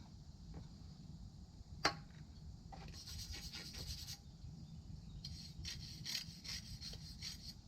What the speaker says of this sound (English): I'm going to do what I can with a wire brush